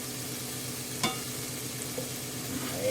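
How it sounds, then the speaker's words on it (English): Bacon and sausage fry in a hot skillet with a steady, even sizzle and one brief sharp clink partway through, heard up close without any talk. "we're going to add our bacon to this hot skillet and get it cooked, as well as our sausage."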